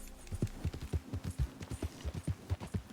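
Horse hooves in Red Dead Redemption 2 clip-clopping at an even walking rhythm, about a dozen soft thuds close by, fairly quiet and unbroken by speech.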